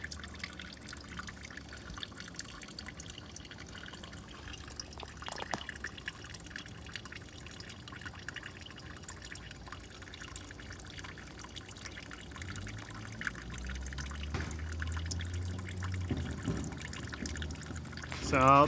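Liquid drains through a crack in the gas tank of a 1966 Plymouth Fury, a faint trickle that swells into a steadier pour toward the end, with some talk nearby.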